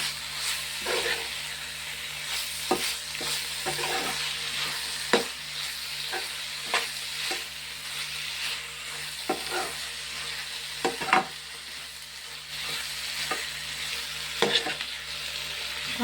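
Spices, rock salt and tomatoes fry in a pan while being stirred, producing a continuous soft sizzle broken by irregular scraping clacks of the spoon, moderately close and fairly quiet.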